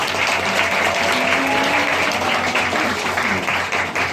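Steady, dense applause from a film screening audience for the producer, a loud continuous wash of clapping with a faint tonal hum beneath it.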